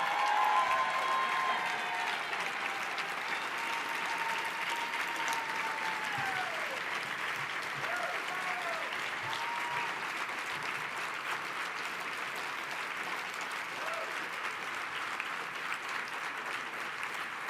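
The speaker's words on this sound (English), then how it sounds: "one big round of applause for them, everybody" An audience honoring the 2008 Academy for Women of Achievement honorees keeps up a long, full wash of applause that holds steady throughout, with a few faint whistles rising over the clapping.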